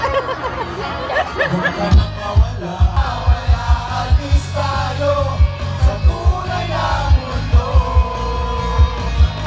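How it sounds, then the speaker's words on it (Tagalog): At a Barrio Fiesta in Dubai, a crowd screams, yells and cheers loudly for Dubai vloggers, the excited voices mixed over a steady, pounding rhythmic beat. "Grabe din ang sigaw para sa mga Dubai vloggers"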